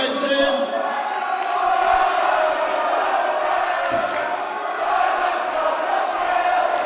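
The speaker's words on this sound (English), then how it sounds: "Listen to this crowd." An arena crowd at a TNA versus Ring of Honor wrestling match keeps up a loud, steady roar of chanting and shouting throughout, with some rises in volume.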